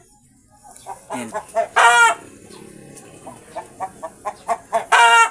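A Rhode Island hen clucks close by in repeated short bursts, rising into two longer, louder squawks, with a brief spoken word from a person.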